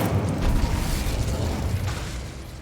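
A Confringo fire spell bursts in Hogwarts Legacy, a dense, sustained boom with heavy low rumble that holds steady for a few seconds and fades slightly at the end.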